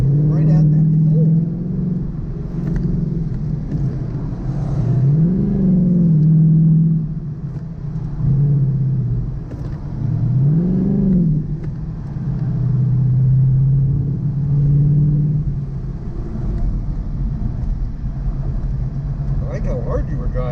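A car drives and revs at a motorsport event, its engine rumbling loudly and rising in pitch in several repeated surges over roughly twenty seconds, with a person talking over part of it.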